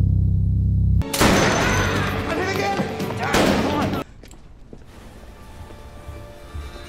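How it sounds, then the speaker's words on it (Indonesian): A burst of rapid gunfire with sharp, loud cracks and echoing booms for a few seconds, followed by a quieter rumbling aftermath. "hingga terjadilah baku tembak lagi"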